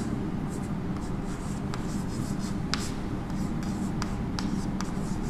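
Pen or chalk writing during a class 3 maths lesson, a steady scratchy stroking with brief sharper ticks over a constant low room hum, close and moderately loud, with no one speaking.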